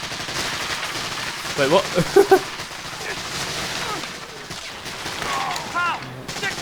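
Rapid gunfire crackles through a beach-landing battle in the WWII shooter Medal of Honor: Allied Assault on Omaha Beach, with a louder cluster of nearby shots midway over a dense battle din while someone talks.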